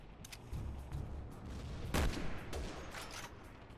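Hydra shotgun shots in a Resident Evil video game, several quick booming blasts in succession amid game action, one especially loud and close.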